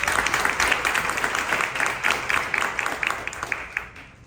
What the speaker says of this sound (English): Let's give a round of applause for Laura.